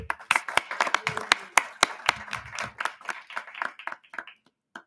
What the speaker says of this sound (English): So a round of applause for our board